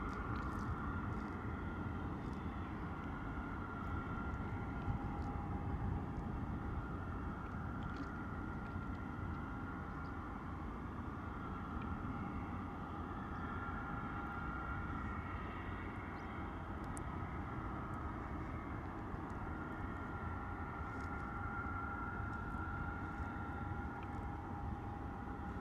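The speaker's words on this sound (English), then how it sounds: "Lovely departure there from my Jetstar as we say goodbye to it for the time being" A Jetstar airliner departs, its engine roar a steady, continuous broadband rumble held at fairly even loudness throughout, with a faint high tonal whine running through it and no voices.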